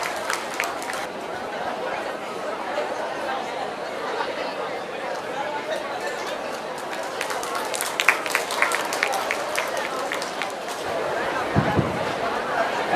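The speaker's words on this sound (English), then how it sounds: "Please give her a huge round of applause." Audience at a college youth festival prize ceremony applauding a winner, a broad steady wash of clapping mixed with crowd chatter that swells with sharper claps toward the end.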